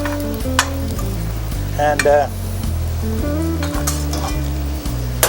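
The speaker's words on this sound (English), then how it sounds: "We got a nice sizzle in there." Rock sole fillets sizzle steadily in a hot frying pan, a loud, continuous crackling fry with occasional stirring and pan clinks throughout.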